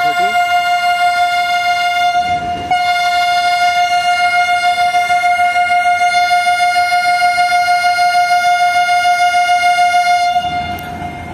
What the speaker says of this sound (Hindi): और ये AG30 6013 ने अपना डिवाइडिंग विसल दे दिया है